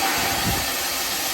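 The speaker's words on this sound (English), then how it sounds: "A little bit of mixed steam and water because it's right about that point." Steam and water sputtering from the middle try cock of a steam locomotive boiler on Frisco 1630, a steady loud broadband hiss close by, with no voices.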